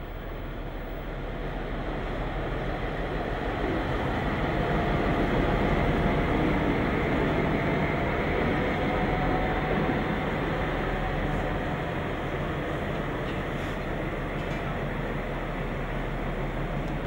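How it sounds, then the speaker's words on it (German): DR class 220 diesel locomotive 220-272 pulling out of the Bautzen depot, a steady loud broadband diesel rumble that swells over the first few seconds and holds for the rest, with no voices. "Im BW Bautzen wird die Maschine auf die Reise geschickt."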